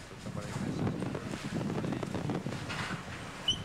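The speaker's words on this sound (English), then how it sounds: "you hear that wind whipping in the background" Wind whips across the microphone at an outdoor bowling team shootout, a steady rushing roar that fills the short clip, with faint voices mixed in.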